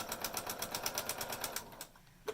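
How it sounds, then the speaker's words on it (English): A sewing machine runs a short, fast burst of evenly spaced needle strokes and then stops to lock the stitch automatically, with a soft click at the end. "It automatically locks the stitch."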